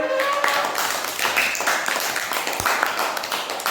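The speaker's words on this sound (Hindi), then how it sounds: "ताली बजाइए सब बच्चे" Children in a classroom clap together, a quick burst of scattered, uneven hand claps that starts strong and slowly thins out, with faint room noise behind it.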